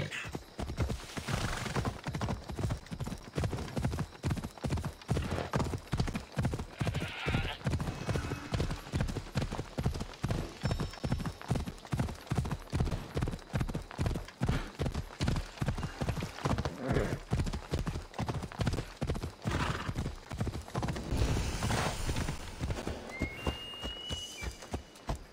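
Horse hooves clip-clop in a steady, rapid rhythm throughout a scene from the video game Assassin's Creed Odyssey, the beats loud and close with brief whinny-like accents and faint game ambience.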